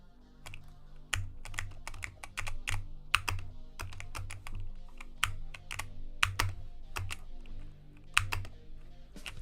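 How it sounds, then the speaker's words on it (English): Loud computer keyboard typing during a Roblox EToH gaming stream, a close, rapid clatter of sharp key clicks and heavier thocks in uneven bursts, with no talking. "your keyboard is Bro. way too loud."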